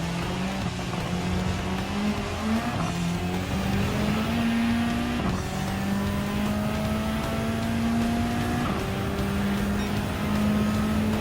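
Ford GT LM Spec II race car engine in Gran Turismo 7, a steady loud drone that rises in pitch through the gears with brief dips at shifts, continuous and unaccompanied by speech.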